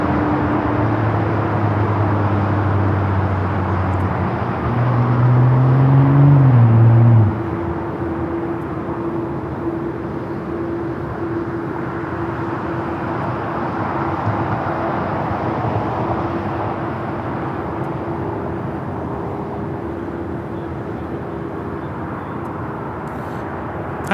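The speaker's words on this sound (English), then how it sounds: "This is American Airlines 1943 taking off to Austin, Texas on the 737-800." An American Airlines Boeing 737-800 taking off from LAX for Austin, a loud sustained jet engine roar with a rising tonal whine early on, steady and broad for the whole stretch, with no talk over it.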